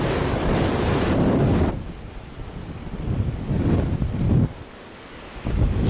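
Strong wind buffets the microphone on the North Sea coast in the Netherlands, with steady surf and breaking waves roaring underneath, loud and continuous with gusty swells.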